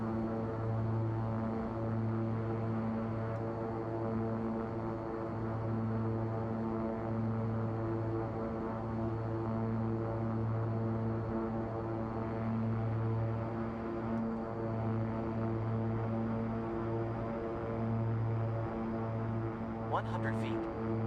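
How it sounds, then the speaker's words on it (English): Steady droning aircraft engine hum with strong tonal harmonics as a propeller plane flies short final on a landing approach in X-Plane 11, with flaps full; constant and close, with a small click near the end. "flaps are now full. We're on short final into Corcoran"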